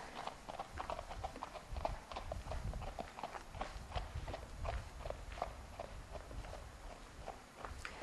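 Rhythmic clip-clop of a Foxtrotter horse's hooves trotting at a steady pace on firm ground, moderately close, with faint background ambience.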